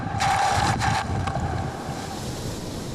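The racing yacht RBS Roadrunner crashing through waves in the Three Peaks Yacht Race, with loud hissing spray bursts early on over a constant rumble of wind and sea that gradually eases.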